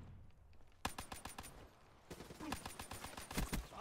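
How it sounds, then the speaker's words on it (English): Rapid automatic bursts from a modded MR6 pistol in Black Ops 3, two strings of quick evenly spaced shots, loud and close, with a short pause between bursts. "so if I just hold my trigger down, it actually shoots for me"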